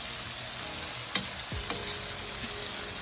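Tomatoes and peppers sweating in a pan for ackee and saltfish give a steady, soft frying sizzle, with a couple of brief stirring clicks and utensil scrapes close by and no talking.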